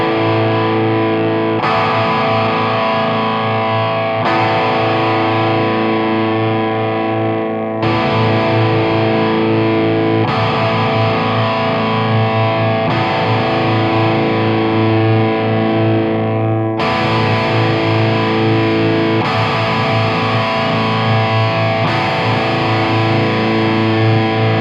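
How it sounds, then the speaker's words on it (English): Heavily overdriven electric guitar through the Amplifikation Creme amp plugin, cycling through its three overdrive types in sustained distorted chord passages, loud and close, with the tone shifting at each section change. "Since there are 3 different overdrive types, let's hear a sample of each."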